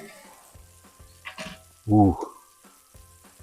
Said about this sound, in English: You can see it's sizzling on the edges.